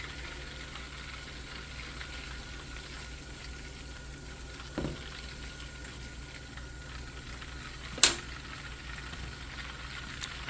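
Keto food frying in butter in a hot pan, a soft continuous sizzle and crackle with a couple of sharp clinks from utensils, heard close and alone.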